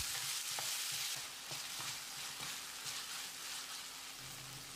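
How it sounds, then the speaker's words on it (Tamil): Chopped tomatoes sizzle steadily in a hot pan, with a spoon scraping and stirring at intervals; close and fairly quiet, no voices. "மீடியம் சைஸில் 2 தக்காளியை நறுக்கி வச்சுருக்கேன், இதை போட்டுடலாம்."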